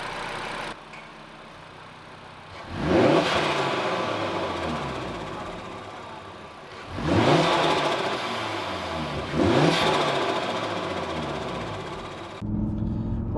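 Audi RS Q3 with an aftermarket air intake revs hard three times, each burst climbing then falling back to a steady idle between, loud and close with no talking.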